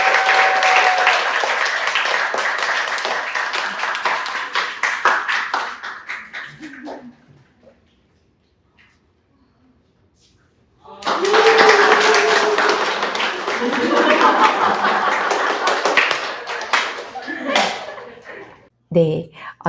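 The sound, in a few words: audience applause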